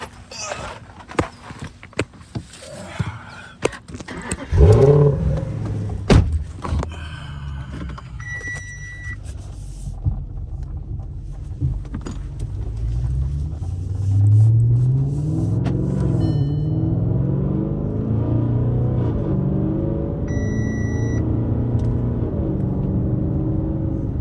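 An RC car, with Vte2 and limitless speed running mentioned, driving off-road: clattering knocks and bumps at first, then a rising, revving electric motor whine that holds steady, with a voice speaking briefly.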